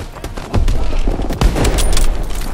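Rapid, loud gunfire and sniper rifle shots from the World War II shooter game Call of Duty: World War II, with sharp bursts and booming reports layered densely over continuous action.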